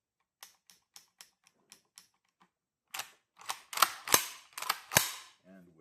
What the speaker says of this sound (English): And then when you close the bolt, now the feed ramp is active.